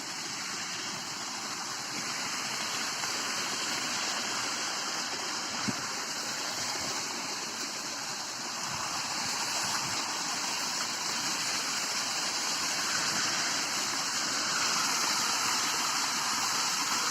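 A small village waterfall roars in a steady, dense wash of falling water, close and constant throughout, with no voices over it.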